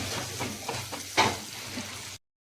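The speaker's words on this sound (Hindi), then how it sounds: "और इसे ब्राउन होने तक अच्छी तरह से भून लेंगे" Chopped onion frying in a hot pan while it browns, a steady, close sizzle with a few louder spits as it is stirred, cut off abruptly after about two seconds.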